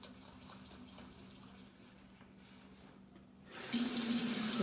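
Tap water running into a sink during hand washing with soap. A steady hiss of flowing water grows noticeably louder near the end as the stream strengthens.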